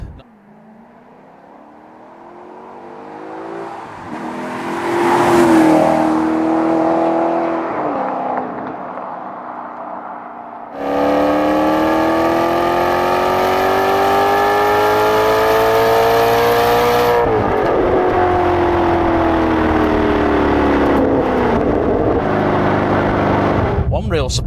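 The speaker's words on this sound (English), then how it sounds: "As you would hope from an old-school Italian naturally aspirated V8," A 2010 Maserati GranTurismo S with an old-school Italian naturally aspirated V8 revs and accelerates hard, its loud engine note climbing through the gears in long sweeps, close by, with a short spoken aside over it.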